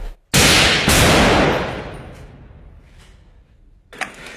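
A single loud, close gunshot cracks out during the battle of Marawi, its echo rolling away over a couple of seconds, followed by a fainter second report at the end.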